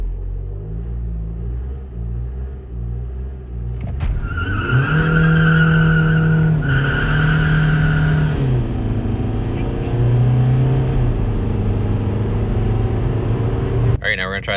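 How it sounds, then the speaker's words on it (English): A CR TDI diesel car is held at 2000 RPM and launched with traction control off in sport mode: an idling rumble, then a sudden surge into a loud straining engine drone with tire noise through the run, and a person talking inside the car. "we're gonna try the 2000 RPM launch here"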